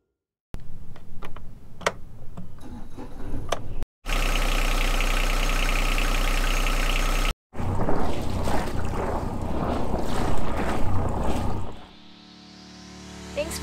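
A boat engine fires up after a freshwater flush and keeps running. It drones loud and steady with a ticking rhythm, with a brief break before it settles into a rough idle that fades at the end.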